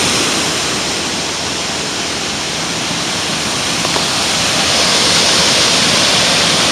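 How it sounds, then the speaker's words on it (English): A powerful waterfall pouring from a dam, a loud, dense, unbroken roar of rushing water heard up close throughout. "obviously, you can tell, but still creates some beautiful waterfalls"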